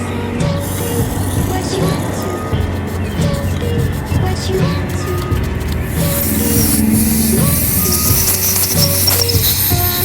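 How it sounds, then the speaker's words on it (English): Carburetor cleaner sprays over a small filter from a Kawasaki 750SXi/SXR800 carburetor in a loud, continuous hissing blast, with an engine-like hum in the background and no talking. "And now I'm going to get carburetor cleaner, and then I'm going to clean it up really nicely."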